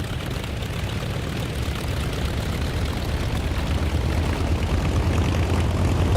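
A propeller aircraft engine in the DCS flight simulator game is revved up to warm, producing a steady, loud droning roar with a low throb that builds slightly and continues without a break.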